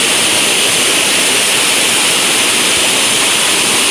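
A swollen mountain river rushes during the rainy season on a steep hillside, making a loud, steady roar of churning water with no pauses and no voices.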